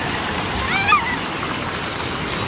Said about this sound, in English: Yeah, waterfall.